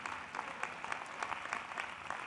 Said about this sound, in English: I'll pause every time for applause.